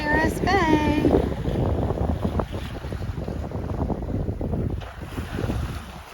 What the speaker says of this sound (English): Here we are, sailing into Banderas Bay.